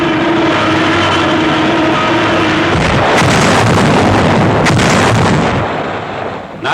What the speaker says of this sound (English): Nazi counter-battery fire.